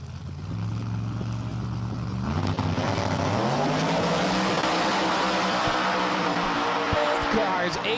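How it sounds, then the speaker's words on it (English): Drag racing cars make a full-throttle pass of close to 200 mph at Empire Dragway, their engines roaring loudly and rising in pitch as they accelerate through the run. "A to B, full throttle, nobody lifts, nobody backs down, and a close to 200 mile an hour pass between the two of them."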